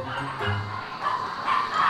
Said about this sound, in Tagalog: Sila, mga aso lang yung maingay sa amin